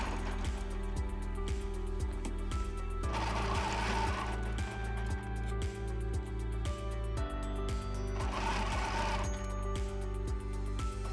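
A sewing machine quilts waves along a Good Measure Apples and Oranges ruler template, its needle stitching in a steady, even mechanical rhythm throughout, with music playing alongside.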